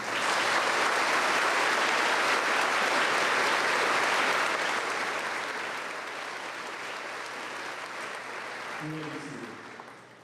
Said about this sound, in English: A round of applause for our guests tonight.